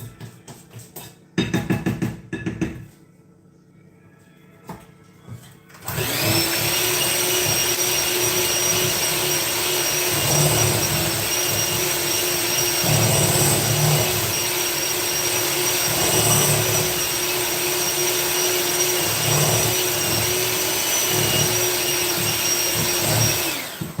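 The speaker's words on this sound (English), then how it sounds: "you could use a big mixer that has it go in a bowl just like this" An electric stand mixer beats cheesecake mixture in a bowl, a steady loud whirring hum that starts after a few brief bursts and runs on without a break.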